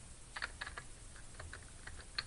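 Typing on a computer keyboard, a quiet run of light, irregular key taps close by with a slightly louder tap near the end.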